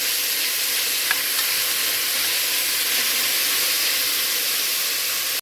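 Tomato, capsicum, coriander and mint fry in a pan for a chicken curry, giving a steady, loud, broad sizzle that holds evenly throughout with no talk.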